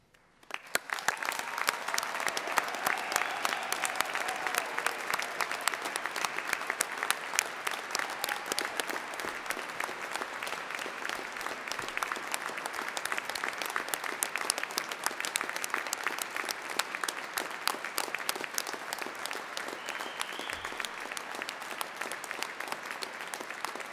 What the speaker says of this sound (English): can I ask one last time for all our graduates to stand and for everyone here to join me in a really huge round of applause